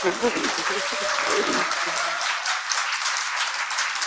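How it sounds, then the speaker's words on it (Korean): Applause and clapping break out during a Korean political talk show, a dense, steady patter lasting several seconds with voices talking and laughing over it. "뭘 박수를 치고 그래요?"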